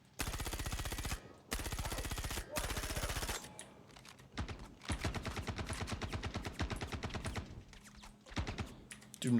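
Rapid automatic gunfire from Star Citizen rattles out in several long bursts, loud and close, with short gaps between volleys and a looser, broken stretch of shots toward the end.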